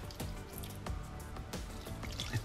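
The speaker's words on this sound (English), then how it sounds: "So now we add the water to every single one of them." Water trickles and splashes close by as it is poured into several small containers for a recipe, a continuous light stream with occasional drips and gurgles.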